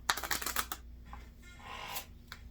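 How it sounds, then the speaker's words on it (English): Quick riffle of a deck of playing cards being shuffled up close, a rapid burst of crisp flutters followed by softer squaring taps, no talking. "I'm gonna go ahead and shuffle these."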